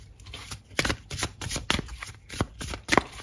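Tarot cards are shuffled and drawn in a quiet room, a series of crisp riffling and slapping bursts in an uneven rhythm, close and fairly soft, with no speech.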